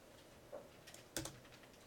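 Keystrokes on a computer keyboard during a lecture, a few quiet, sparse taps with one sharper key press, faint and close in a quiet room.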